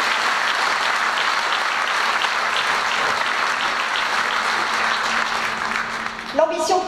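A hall audience at a municipal New Year's greetings event applauds in sustained, dense clapping, loud and even for several seconds before a voice begins speaking at the end.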